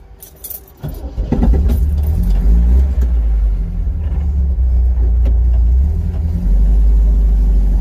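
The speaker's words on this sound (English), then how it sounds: "Cars start better with a key." A car engine in a V6 Corolla project car starts after a brief key rattle and then idles with a steady, close, low rumble.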